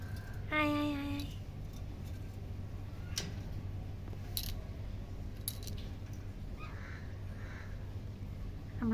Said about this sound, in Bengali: আমার দুইটা বাজুরিকা পাখি